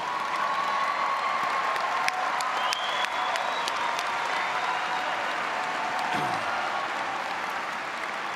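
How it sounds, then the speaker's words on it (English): Students at a high school commencement clap for parents and guardians, a sustained, even roar of applause from a large crowd in a big hall, with a few faint whistles and tones breaking through. "Students, you need to give them a round of applause"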